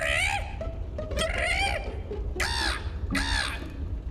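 A performer's voice imitates a call of a local bird from a fantasy setting, giving four loud, harsh crow-like caws with rising and falling pitch, close to the microphone and alone.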